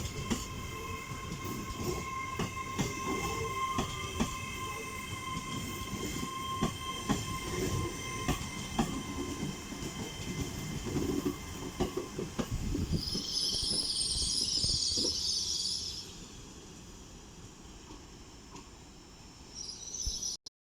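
Trains roll through Durham station with steady rumbling, clattering wheels and a sustained hum, then a brief high wheel squeal before the noise eases and falls quieter near the end.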